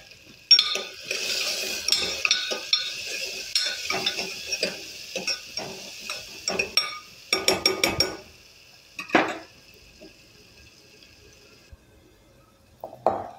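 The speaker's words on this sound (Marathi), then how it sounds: "ते परतून घेऊयात." A pinch of asafoetida and turmeric sautéed in a pan, with repeated close metallic scraping and clinking of a spoon stirring against the cookware, pausing and resuming without speech.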